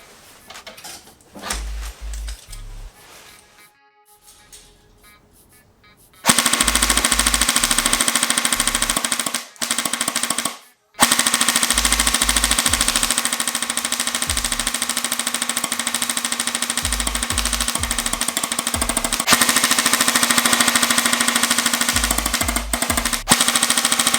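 A Snow Wolf SW-02A airsoft Barrett M82A1 rifle fires long full-auto bursts of loud, rapid mechanical clattering, with quieter clicks and handling noises beforehand and a brief pause between bursts.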